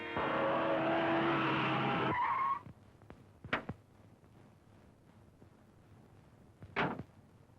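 A vehicle pulls away with a loud, close engine roar that cuts off after about two seconds, followed by quieter background with a couple of brief whooshing passes.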